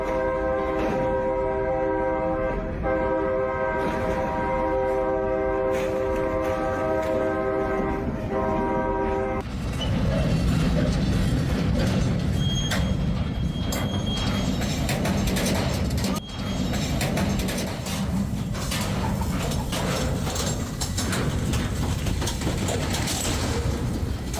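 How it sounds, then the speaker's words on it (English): A heavy train sounds a loud multi-tone horn for several seconds, then roars past close by with rumbling wheels and clattering rail noise that continue steadily to the end. "Train versus car. And surprise, surprise, the 100-ton train wins again."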